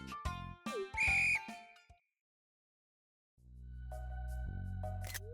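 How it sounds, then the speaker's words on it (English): Whistle blown in the Stardew Valley video game: a bright, piercing game whistle blast, followed by a pause of silence and then a sustained low, steady game-music drone. "Oops, forgot to blow the whistle."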